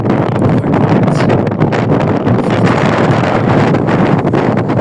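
Strong wind gusts buffet the microphone at Yanar Dağ in Azerbaijan, a loud continuous roaring rush with no talking.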